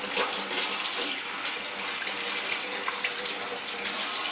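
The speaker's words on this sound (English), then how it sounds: "we're going to go rinse the eggs." Cold tap water runs steadily over boiled eggs in a sink, a continuous close splashing rush that holds even throughout with no talk.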